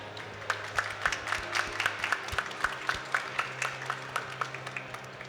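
Healthcare conference audience applauding, a steady patter of many hands clapping at moderate distance, fairly soft and even, sustained for several seconds without talk.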